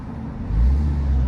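4th gen Cummins diesel truck accelerating, a low engine rumble that swells louder halfway through, heard from inside the cab.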